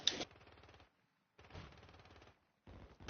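Bursts of rapid automatic gunfire from a shooter video game, three loud volleys separated by short silent gaps.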